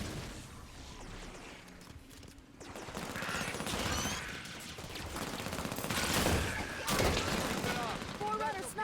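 Soldiers open fire during a Halo video game battle against Prometheans: bursts of rapid gunfire and impacts build over several seconds, mixed with game voices and electronic weapon effects.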